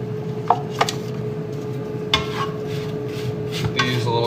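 Food being stirred and tossed in olive oil in a pan on a home stove, with a few sharp scrapes and clinks of the utensil against the pan over a steady low hum.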